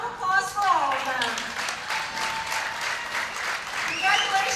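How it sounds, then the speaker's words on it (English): Audience applause at a PWBA Orlando Open bowling tournament, steady clapping that fills the room for several seconds, with a voice audible over it at the start and again near the end. "How about one more round of applause for all of them?"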